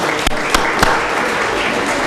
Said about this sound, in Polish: Serdecznie witamy młodzież i oklaski.